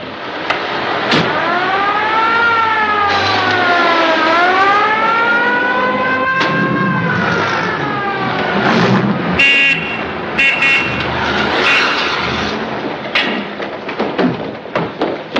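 An ambulance siren wails loud and near in a 1939 film, its rising and falling tone sweeping several times before it breaks off into thumps and clatter.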